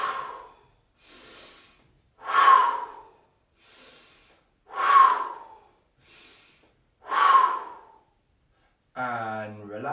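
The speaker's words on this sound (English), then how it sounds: "And breathe out." Slow, audible breaths during a seated breathing exercise, with three strong exhalations alternating with quieter inhalations in an even rhythm and a voice speaking briefly at the end.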